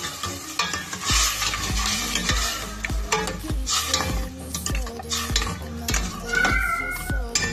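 A spoon scrapes and knocks against a pan as beef mechado simmers and sizzles after a little broth is added. The metallic stirring clinks come in a steady, repeated rhythm over the frying.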